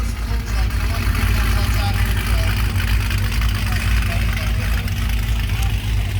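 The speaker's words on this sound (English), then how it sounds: "Listen to that exhaust." A car's exhaust rumbles at a Cars For Autism car show in Missouri, a deep, steady low-pitched idle that stays loud and close throughout with outdoor background noise around it.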